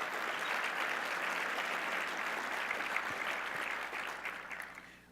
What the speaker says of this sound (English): let's give Mario Cordero a big round of applause and thank you